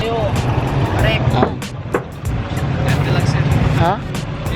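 A tricycle ride through traffic in Vigan, Philippines: a steady rumble of motor and road noise surrounds the ride, with several sharp clicks, brief chirps and passing vehicles, while voices talk over it.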